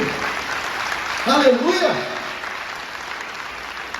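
A church congregation applauds at a Portuguese-language worship service, a broad steady wash of clapping that carries through the whole clip while a voice briefly calls out a praise exclamation near the middle.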